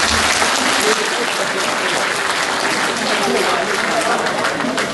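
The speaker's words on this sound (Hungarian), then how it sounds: "tapsoljuk meg magunkat" A dense, continuous round of audience applause fills the room at a gathering of Muzslya natives in Sydney, loud and sustained throughout with no pauses.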